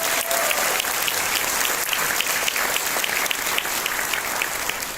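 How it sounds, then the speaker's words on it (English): An event audience in Malaysia applauds: a dense, even wash of clapping from many hands that holds steady and loud from start to finish. "let's give yourself and all of us a big round of applause for being here"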